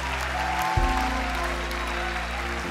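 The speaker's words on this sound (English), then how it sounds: "Church, can we give these people a massive round of applause?" A large church congregation applauds in a big hall, dense sustained clapping heard at a distance with a low hum of music beneath.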